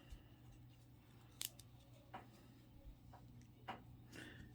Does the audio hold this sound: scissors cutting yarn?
yes